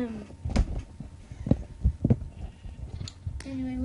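Repeated sheep bleats in a Minecraft minigame, several short cries spaced over a few seconds, mid-loud and close, over a steady game background.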